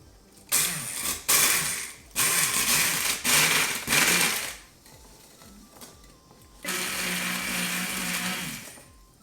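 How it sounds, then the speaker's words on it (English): A handheld mixer grinder whirs loudly as it powders dehydrated beet peels, running in four short bursts and then one longer sustained run, with a steady motor whine and a gritty rattle. "So I'm gonna use this handheld mixer grinder and see how we can get these powdered."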